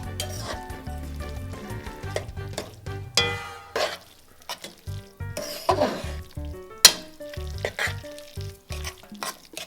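Shredded beef stirred into a sizzling pepper, onion and garlic mixture for ropa vieja, with a steady fry and irregular utensil scrapes and clinks against the pan, under faint background music.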